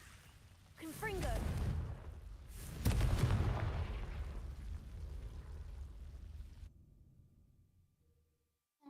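Confringo fire spell blasts in the Hogwarts Legacy game, a rolling explosive roar building in two booming waves, with a voice calling out over it before fading to near silence.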